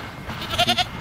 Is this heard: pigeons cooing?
no